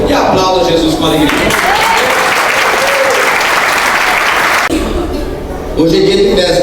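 A church congregation applauds at a closing Sunday service of a Tabernacle feast, loud continuous clapping filling the room between stretches of a speaking voice at the start and end.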